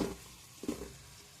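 Chopped onion sizzling in a pan while soybean pulao is cooked at home, a faint steady fry with a brief stirring scrape midway.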